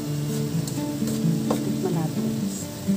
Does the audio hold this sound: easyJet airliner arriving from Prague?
no